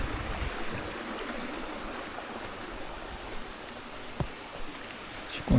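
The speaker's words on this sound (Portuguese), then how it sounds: "Um pequeno córrego." A small stream flowing beside a garden path, a soft continuous rush of water heard close, with a brief knock and a rustle near the end.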